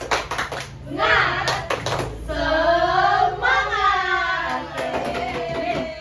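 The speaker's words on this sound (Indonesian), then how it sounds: "Tepuk semangat." Children in an Islamic education classroom perform a clapping chant together, rhythmic hand claps mixed with their chanted and sung voices, close and fairly loud throughout.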